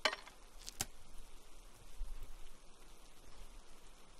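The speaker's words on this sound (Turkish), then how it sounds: "Çok yağıyor." Heavy rain in the video game Hurtworld, a steady broadband hiss of downpour with a few faint clinking drops near the start, continuous and fairly quiet with no talking.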